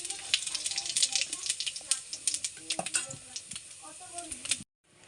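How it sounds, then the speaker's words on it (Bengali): Whole cumin and dried red chillies crackle and sizzle in hot oil as a tempering, with sharp irregular pops over a bright hiss before a sudden cutoff near the end. "ফোড়নে দেব গোটা জিরে আর শুকনো লঙ্কা।"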